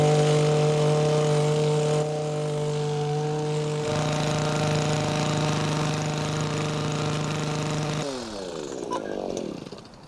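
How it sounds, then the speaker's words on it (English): A hedge trimmer runs loud and close while cutting through a wildflower meadow, holding a steady motor whine before the engine note drops away near the end. "So my chosen tool is, as strange as it might seem, a hedge trimmer."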